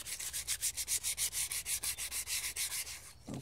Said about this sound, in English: what I'm doing here now is just going over the rest of the wheel with 120 grit